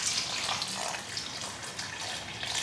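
Water poured into a bread dough mix with active sourdough starter, a steady close splashing pour that runs continuously and fairly loud without pause.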